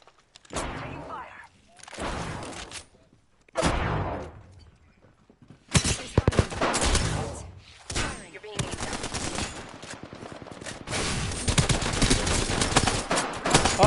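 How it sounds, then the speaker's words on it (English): Bursts of gunfire in the battle-royale shooter Apex Legends, loud repeated volleys separated by short gaps, then near-continuous shooting through the second half, with players talking over it. "Taking fire."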